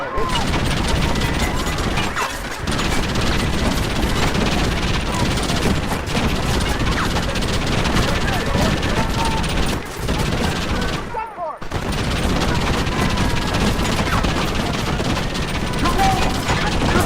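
Heavy gunfire from a large shootout against a big posse of riders in the Western video game Red Dead Redemption, with shots dense and continuous throughout and a brief drop near the end.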